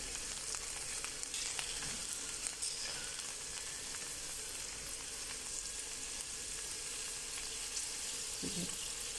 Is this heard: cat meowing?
no